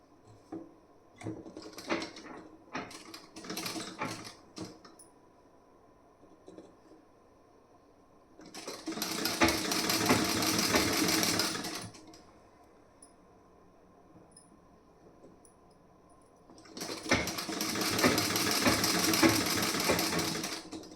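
Sewing machine stitching a folded blouse sleeve piece: two sustained bursts of steady whirring a few seconds each, separated by quieter handling clicks and rustles, close and alone with no talk.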